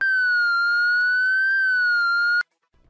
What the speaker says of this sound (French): la sonnerie de la sirène extérieure et son flash pendant 15 secondes